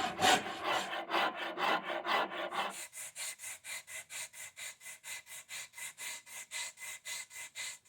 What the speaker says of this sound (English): then do the body contours with our file by hand